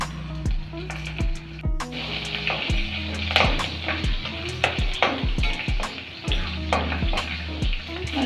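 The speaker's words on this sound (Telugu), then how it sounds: "కాస్త జీలకర్ర మంచిగా ఫ్రై చేసుకోవాలి." Cumin seeds and dried red chillies crackle and sizzle in hot oil. Repeated close knocks of a spoon against the pan punctuate the frying at an uneven rhythm, and no voices are heard.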